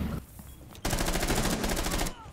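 Gunfire in the tactical shooter Rainbow Six Siege: a quiet moment gives way to a loud, rapid burst of automatic fire lasting over a second, then stops abruptly.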